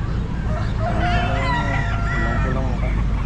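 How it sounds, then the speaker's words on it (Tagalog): A chicken at a pet market in Baliuag crows loudly and close by, a drawn-out rooster call over steady background crowd noise. "Gandang manok."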